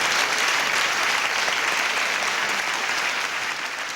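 Dense, sustained applause from a television studio audience, steady and loud across the whole stretch with no voices over it, easing only slightly toward the end.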